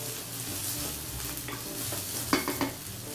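Celery sizzling in a hot skillet for jambalaya, a steady close frying hiss with scraping and clacks from stirring near the end.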